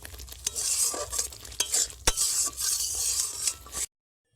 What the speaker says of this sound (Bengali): হালকা আছে মশলাটা কিছু সময় কষে নেব